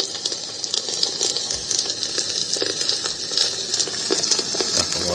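A bedside lamp speaker plays a recorded crackling fire, a steady thin hiss dotted with quick pops and crackles. It sounds compressed and high-pitched, and it continues for several seconds at moderate volume.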